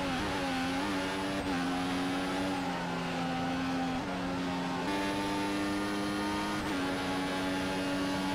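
Formula 1 car engines in the F1 2014 racing game at Japan, a steady loud high-pitched whine held throughout with brief pitch dips at gear shifts, no talk.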